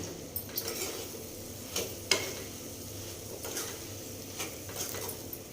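Green chili pickle is stirred in a lightly warmed wok, soft scraping and occasional sharp clicks of the spoon against the metal over a quiet, faintly sizzling background.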